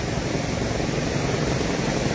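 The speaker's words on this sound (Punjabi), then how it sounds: "ਇੱਕ ਹੈਲੀਕਾਪਟਰ ਹੋ ਰਹੀ ਆ ਦੋ ਹੈਲੀਕਾਪਟਰਾਂ ਜਿਹੜੇ ਚੱਕਰ ਲਾ ਦੇਣ" A helicopter flies over the Ravi river during heavy monsoon flooding, its rotor and engine making a steady, dense wash of noise that holds level and fairly loud throughout, with no voices.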